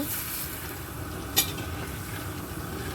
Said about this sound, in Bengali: এবার দিয়ে দেবো আলুগুলো আলুগুলো হালকা লাল লাল করে একটু ভেজে নেব